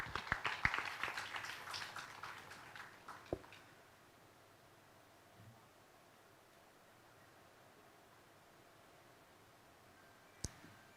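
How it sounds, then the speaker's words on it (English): A conference audience claps for a few seconds, a dense patter of hands that fades into quiet room tone, with one sharp tap near the end. "Let's give him a big hand of applause."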